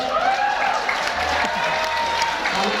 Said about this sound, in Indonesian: tepuk tangan dulu deh buat yang basic